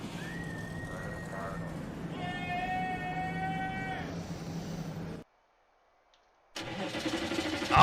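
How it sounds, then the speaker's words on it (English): Stock car engines in NASCAR Heat 5 fire up over crowd noise and a public-address voice, with tonal whines and a steady rumble, a brief silence, then the engines return louder near the end. "Drivers, start your engines!"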